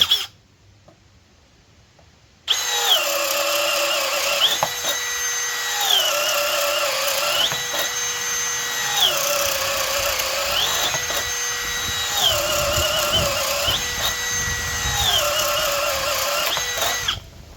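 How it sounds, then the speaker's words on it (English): A Milwaukee M12 FUEL cordless drill on speed 2 whines loudly as a 3/4-inch paddle bit bores through wood, its pitch dipping and recovering repeatedly as the bit bites in, after a brief quiet start. "There's 3/4 inch paddle bit. Speed 2 still. Full battery still. We're on drill."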